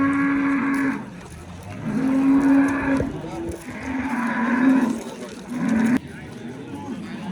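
Cows at the Yakkatut livestock bazaar in Izboskan, Andijan, give several long, loud, drawn-out moos in succession, with people talking and market noise in the background.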